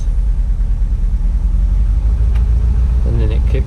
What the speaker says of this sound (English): So first time in the morning you have to give it a little gas